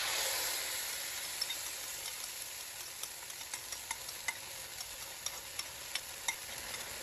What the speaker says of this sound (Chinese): 搅拌